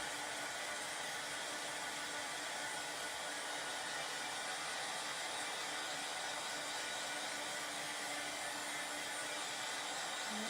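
A hair dryer runs continuously at a steady pitch, drying a freshly placed farmhouse tile transfer, a constant close whir with no pauses or talk.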